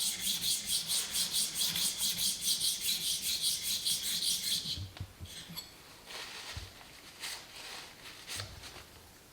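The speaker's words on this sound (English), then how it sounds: "now I've got to smooth off this side, and I'll do that on this oil stone." Steel blade being honed on an oil stone in a tool restoration: regular rhythmic rasping strokes for about five seconds, then a few scattered clinks and scrapes with quieter handling noise.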